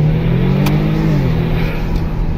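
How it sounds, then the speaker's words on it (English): A Kia Stinger fitted with ARK downpipes, its exhaust giving a loud, close drone from inside the cabin that dips in pitch partway through as it changes down on the paddle shifter. "Oh, even the paddle, the downshifts, is a lot more exciting noise-wise."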